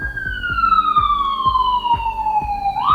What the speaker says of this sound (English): sorry for all the sirens